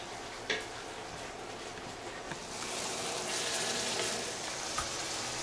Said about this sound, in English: keep this over really, really high heat, stirring for about another 10 minutes until that milk completely reduces